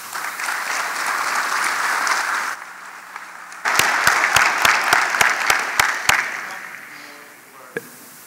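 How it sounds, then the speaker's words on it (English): An audience at a conference panel on online commerce breaks into warm applause for the panelists, dense at first, then thinning into a few louder, distinct claps before fading out. "give the panelists a big applause"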